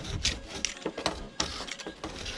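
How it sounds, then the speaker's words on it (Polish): Rough scraping strokes across laminate on a raised Citroen C8 roof, a close, irregular series of rasping scrapes with short pauses between passes, with no talking. "skrobiemy tutaj ostatnie te dwa, jeszcze do końca"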